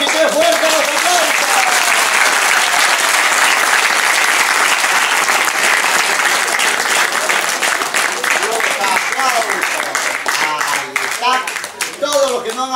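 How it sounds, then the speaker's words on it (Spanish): A circus audience in Trujillo applauds loudly on cue from a clown magician, a dense, sustained roar of clapping from a large crowd that holds steady for over twelve seconds with voices mixed in. "Vamos a ir con los aplausos primeramente, ¿ya? 1, 2 y 3, fuerte los aplausos."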